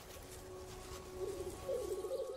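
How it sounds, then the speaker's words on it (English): Male black grouse giving a soft, bubbling courtship call in spring in Siberia, a low rolling coo that swells toward the end, moderately distant and faint against a quiet natural background. "Males woo the ladies with a bubbling sound called rukuing."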